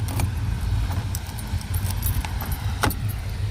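Keys jingle and clink while a lorry is locked at a roadside bypass stop, close and fairly loud over a steady low rumble of traffic, with a sharper metallic rattle near the end.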